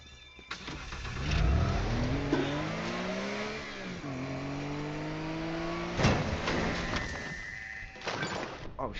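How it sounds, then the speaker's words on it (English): Car engine in the Teardown video game, revving up hard, its pitch climbing and dipping through shifts and throttle changes, loud and close with a few sharp impact bursts, and no speech. "This car drifts way too easily."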